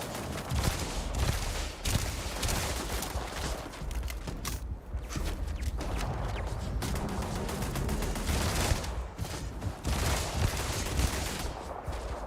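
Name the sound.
gunfire in a shooting video game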